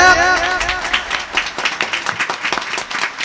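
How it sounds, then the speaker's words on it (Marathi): A kirtan crowd claps loudly and rhythmically in quick, even beats. A voice is heard briefly at the start, then the clapping carries on alone. "टाळी वाजवा टाळी वाजवा जोऱ्यात जोऱ्यात"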